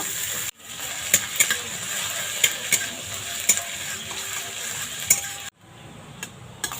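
Crushed ginger and green chili hit hot oil with panch phoron for a potato singara filling, a steady sizzle and crackle with occasional clinks of a spatula against the pan, briefly cut off twice, no voices.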